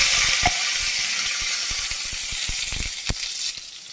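Mustard seeds, curry leaves and dried chillies sizzle and crackle in hot oil for a rasam tempering: a loud, continuous hiss broken by sharp spattering pops and small clicks.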